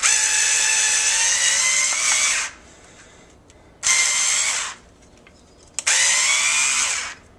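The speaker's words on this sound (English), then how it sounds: "now, you want to set it in reverse. And theoretically, we should be able to get this cork out of here." A Skil iXO cordless screwdriver runs in reverse to pull a cork from a bottle, giving three loud, close high-pitched whining bursts of about two seconds each, separated by short quiet gaps.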